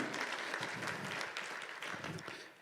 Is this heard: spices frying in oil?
no